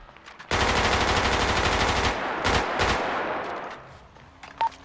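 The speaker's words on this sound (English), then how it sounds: "Shooting at me, man." Automatic gunfire in a multiplayer video game erupts in a loud sustained burst, breaks off, fires two more short bursts, then trails away into quieter background noise.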